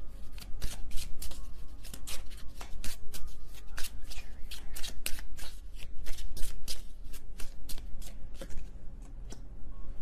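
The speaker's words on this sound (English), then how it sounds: "I just shuffled and there you are," Rapid riffling and flicking of tarot cards, repeated brisk shuffles close up with a steady papery rhythm, no voices.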